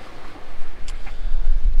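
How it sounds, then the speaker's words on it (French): Wind of about 18 knots gusts over a sailboat at sea during a transatlantic crossing, a loud rushing roar with heavy low buffeting on the microphone and brief splashy bursts, no talk. "18 nœuds de vent, et alors que nous on en fait 6, tu vois, donc t'as compris, ça souffle pas mal"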